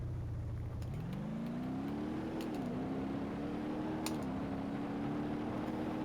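A modded indie car engine in BeamNG.drive revs up steadily, its pitch rising as it accelerates through a gear change, loud and continuous with no talking.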